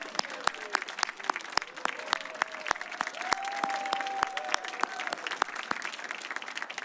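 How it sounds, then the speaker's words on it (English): A standing audience applauds at a television awards ceremony, with crisp, individual claps standing out loudly over a softer crowd bed, a faint voice or tone drifting underneath midway. "I'd like to give a round of applause to all of you."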